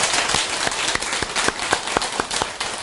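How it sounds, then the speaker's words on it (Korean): Audience at a Buddhist temple sermon clapping to welcome visiting laywomen, a steady rhythmic beat of close, loud claps carried by a crowd. "오늘 오랜만에 박수 보내드리겠습니다."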